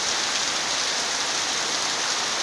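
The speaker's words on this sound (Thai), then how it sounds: "ช่วงฝนตกครับ" Continuous rain on an early Sunday evening, a uniform close hiss with no breaks and no voices.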